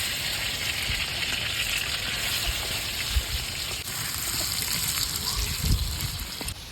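Meat frying in a pan in a village kitchen, a continuous bubbling sizzle with occasional splashes and soft knocks as it is stirred, close and steady throughout.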